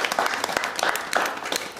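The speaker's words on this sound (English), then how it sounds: "Round of applause, please." Studio audience applauding after a pottery demonstration of espresso cups on a TV soap set, a dense, steady patter of many hands clapping throughout.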